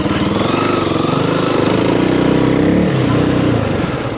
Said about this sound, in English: Bike's running nice and smooth.